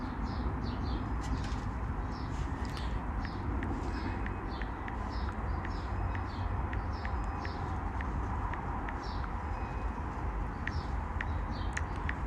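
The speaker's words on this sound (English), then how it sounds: "The bird sounds beautiful." Small birds sing outdoors in Canada in the afternoon, bright repeated chirps and trills riding over a steady, noisy background hum, fairly distant and continuous.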